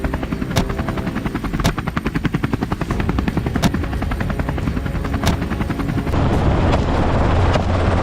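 A hunting helicopter such as a Robinson R-44 or Bell 206 JetRanger flies overhead in Montana, its rotor thumping in a steady rapid beat close by and loud, with some heavy bursts near the end.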